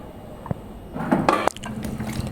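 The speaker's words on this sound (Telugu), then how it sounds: "నేనైతే ఇందులో ఇంకాస్త వాటర్ అయితే పోసుకున్నాను" Water is poured into mashed lentil dal in a cooking pot, making a short, close splashing gush that rises suddenly, then settles into a softer, steady liquid trickle.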